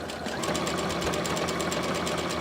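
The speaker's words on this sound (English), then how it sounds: "I'm going to stitch all the way around." A sewing machine stitches around the edge of a placemat backed with Peltex, using an open toe foot, giving a fast, even, rapid mechanical whir with a steady rhythm throughout, close and loud.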